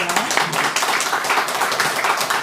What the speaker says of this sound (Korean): 우리 목사님 나오실 때 하나님 앞에 영광 돌리고 반갑습니다 하는 마음으로 박수 많이 하겠습니다